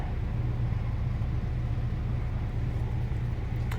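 A Mahindra Roxor engine runs at a low, steady rumble while backing out slowly between two trailers, a close and continuous drone with no talk.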